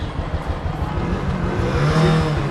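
A repaired Royal Enfield Classic 350 motorcycle engine idles close by with a loud, rapid thumping pulse that swells into a rising rev near the end.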